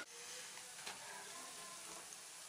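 Masala garelu, lentil vadas, fry in hot oil on a stove over medium heat. A faint, steady sizzle hisses throughout with small pops, and no voices.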